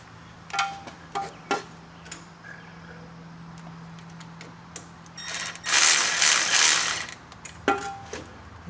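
A tool works a hose clamp loose in a few short clicking, ratcheting bursts, followed by a longer dense run of rapid mechanical chatter and one more brief burst near the end. It is close and moderately loud, with no talking.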